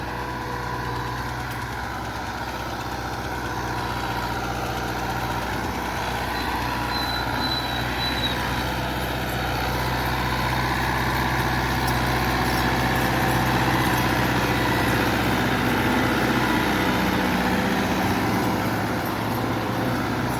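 A 2019 New Holland Al-Ghazi 640 tractor, a 75 hp model, idles steadily with a low, constant engine drone and a faint hum above it. The sound holds even and unbroken throughout, with no speech.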